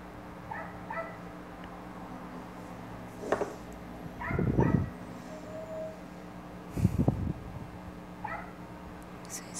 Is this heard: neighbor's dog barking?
yes